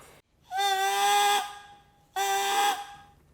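A contrabassoon reed played alone gives two buzzy, squawking crows, each held about a second with a slight pitch bend, separated by a short pause.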